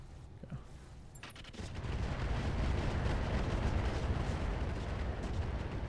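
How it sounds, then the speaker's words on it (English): Ammo explosions in the Battletech video game, with the Roguetech overhaul mod: a few sharp cracks give way to a sustained rumbling roar of blasts and crackling detonations, loud and continuous. "you guys ready for some ammo explosions?"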